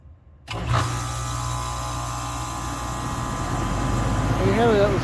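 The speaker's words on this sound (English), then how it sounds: "You can hear the indoor blower still running." Indoor blower of a 2021 3.5-ton Goodman package heat pump runs steadily after a defrost cycle, a close, constant whooshing drone that starts abruptly and holds even, with faint tonal shifts near the end.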